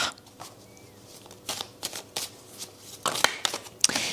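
Oracle cards shuffled and drawn by hand, with irregular bursts of crisp riffling and slapping near the listener, several sharper snaps toward the end, no talk.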